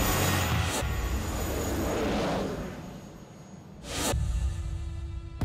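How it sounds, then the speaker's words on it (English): Turbine engine of a customized Corvette Jet Vet running, giving a loud, steady jet roar and whine with sharp bursts near the start and again toward the end, no talking. "This car differs from other Corvettes of this era because it has a turbine engine in it."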